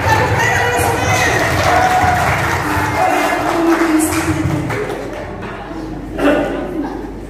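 An audience at a final teachers' academic competition claps and cheers, a crowd roar mixed with clapping and raised voices, which fades toward the end before a brief swell.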